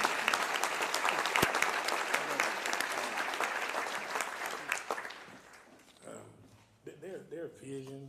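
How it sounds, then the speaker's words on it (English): An audience at a local government luncheon applauds loudly and steadily for about five seconds, then the clapping fades out and a voice begins speaking over the quieter room. "Can we give Uncle Roy and the Monroe Chamber a round of applause?"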